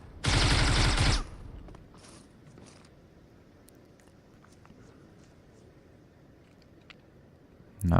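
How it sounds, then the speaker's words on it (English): Gunfire in a Russia vs Brazil first-person shooter esports match, a loud burst of rapid automatic shots lasting about a second, followed by quieter clicks and footsteps, then another loud shot starting at the end. "Zayon is shooting towards that smoke, quickly gets the reload."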